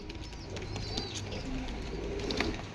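Indian Jhak Gola pigeons being sold coo softly in low, repeated murmuring calls, close by against a faint background hum.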